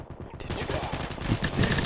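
Rapid video game gunfire, a dense continuous burst of shots up close, mixed with game noise and no speech.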